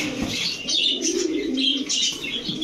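Rajshahi Giribaz pigeons coo continuously at a pigeon market, several birds close by with soft overlapping throaty calls and a few chirps, steady throughout with no talk.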